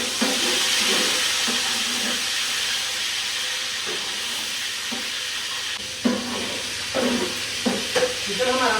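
Chicken frying in a pot with cinnamon and black pepper gives a steady loud hiss and sizzle, with a few sharp clatters of stirring toward the end.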